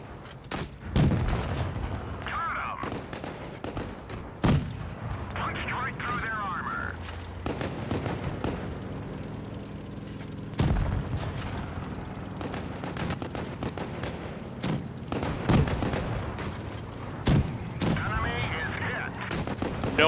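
Tank cannon fire in World of Tanks Blitz, a run of heavy booming shots spaced a few seconds apart with engine rumble and game effects between them, while someone talks over much of it.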